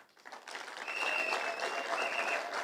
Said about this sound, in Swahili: Nataka tuwapigie makofi ma-MCA